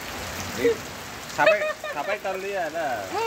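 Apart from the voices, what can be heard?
heavy rain falling in a village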